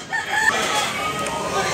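At a Sunday gamecock market in Tabunok, Cebu, a rooster lets out a short crow that rises over a busy murmur of birds and people, brief and mid-distance.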